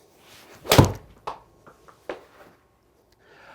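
A golf club strikes a ball during a golf lesson: one sharp, solid impact near the start, followed by a few fainter knocks and quiet.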